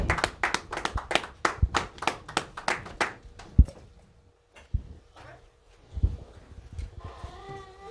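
A church congregation claps in rhythmic acclaim during worship, sharp repeated hand claps close by that fade into scattered claps and quiet murmuring.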